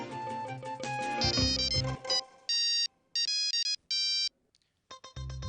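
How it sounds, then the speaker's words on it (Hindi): A phone ringtone plays a bright melodic tune, then repeating electronic ring bursts with short gaps, no talking. "एक मिनट, मैं अश्विन को फोन कर लेता हूँ।"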